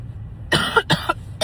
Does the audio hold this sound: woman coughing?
yes